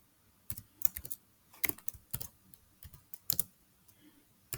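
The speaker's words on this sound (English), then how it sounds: "We can also type any command we want here." Python commands typed on a computer keyboard into a terminal; quiet, close, crisp keystrokes in irregular bursts with short pauses between, and no speech.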